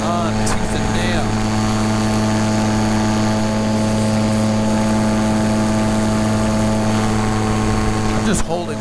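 Electric paramotor in flight held at wide open throttle with its motor sagging, a steady droning whir with tonal propeller hum running continuously and loud throughout, close to the listener.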